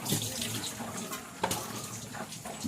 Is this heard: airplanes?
no